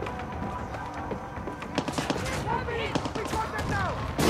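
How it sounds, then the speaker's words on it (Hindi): Gunfire in the video game Far Cry 6, a rapid run of sharp shots and clattering bursts, moderately loud, with a voice speaking over the shooting. "कहां कहां से फायर कर रहे हो?"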